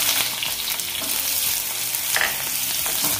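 Onion frying in oil with cumin and chillies for parval bhujia, a steady loud sizzle with light stirring scrapes close by over a few seconds, no talking.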